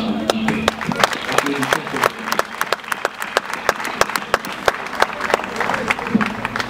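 A crowd at a Congolese wake applauds a deceased musician, a dense, sustained ovation of many hands with sharp individual claps standing out, fairly loud and close, with voices underneath.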